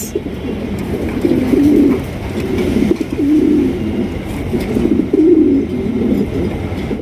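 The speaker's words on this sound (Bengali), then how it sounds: "দর্শক এখানে রয়েছে একজন ইয়েলো কালারের ফ্যান্টাল কবুতর দেখতেই পাচ্ছেন" Yellow fantail pigeon cooing at a pigeon market, a few rolling throaty coos repeating over several seconds, close and loud above a steady rumbling background.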